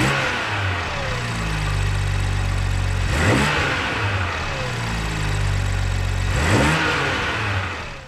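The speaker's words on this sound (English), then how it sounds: "I'm just going to show you what the stock air intake sounds like" A BMW 540i xDrive engine with the stock air intake idles close by and is revved twice, each blip rising sharply and falling back to a steady idle.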